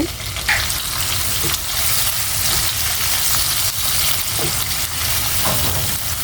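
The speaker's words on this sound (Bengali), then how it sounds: "এখানে পেঁয়াজ কুচি দিয়ে দিচ্ছি" Chopped onion hits hot oil in a pan where fish koftas were just fried, giving a loud, dense, continuous sizzle close up with faint stirring scrapes and no talking.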